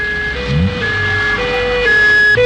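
Warning alarm system sounding in a science-fiction film, a steady electronic tone with repeating higher pitched beeps stepping on and off over a continuous hum, loud and alone.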